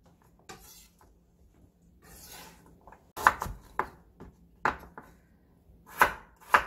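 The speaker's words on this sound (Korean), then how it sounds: "어슷어슷 이렇게 버섯하고 같이 어슷어슷 썰어 주셔요." Knife chopping zucchini and mushrooms on a cutting board for a stir-fried squash dish, with soft scrapes early on and then sharp, close thuds that land in uneven single strokes.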